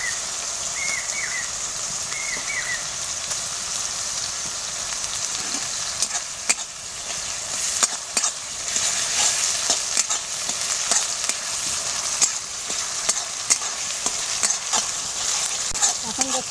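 Ginger garlic paste fries in hot oil for a Bengali-style paneer curry, giving a steady, close sizzle and hiss throughout with scattered clicks and scrapes of stirring, and no talking.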